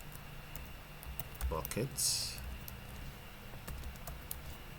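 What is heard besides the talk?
typing on a computer keyboard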